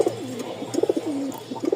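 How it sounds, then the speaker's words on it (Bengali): Male Rajgolla pigeon cooing close up, a few soft rolling coos and short gurgling notes in quick succession over a faint background hum. "আমি একটু ডাক দেখাই।"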